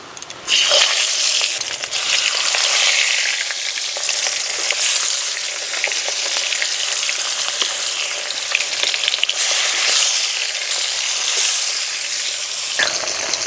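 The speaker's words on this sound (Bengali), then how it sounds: "উনুনের জাল একদম কমিয়ে দিয়ে একটু সময় নিয়ে ভাজবো" Katla fish head frying in hot mustard oil over a very low flame, a steady loud sizzle and crackle running throughout with occasional sharper pops, no voices.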